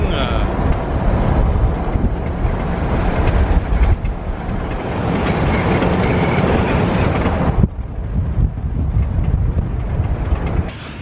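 A VW buggy cruises around Isla Cozumel with a loud, steady engine and road rumble mixed with heavy wind buffeting on the microphone, continuous for about eleven seconds, with a voice heard in the mix.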